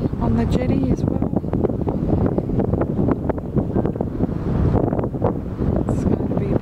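Steady wind buffeting the microphone in loud, continuous gusts on Granite Island, South Australia, with rumbling low noise and faint background voices or water throughout.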